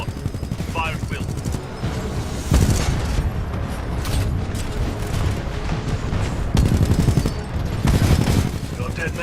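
Continuous heavy gunfire and booming explosions in the Titanfall 2 campaign, loud and dense throughout, with repeated impacts and intermittent voices in the mix.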